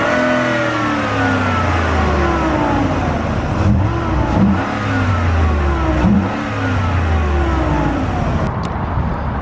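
A high-mileage first-generation Ford Raptor engine revs up and down repeatedly, its rising and falling pitch carrying a steady whine from under the hood, close and loud with no talking.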